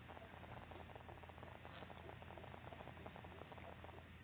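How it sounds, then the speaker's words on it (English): NASA's Ingenuity helicopter flies over Mars, picked up by the rover's microphone as a very faint, distant hum buried in a steady hiss of static, with soft pattering pulses and no voices. "This is the sound of a helicopter flying on Mars."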